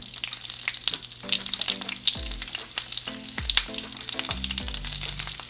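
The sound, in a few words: onion frying in hot oil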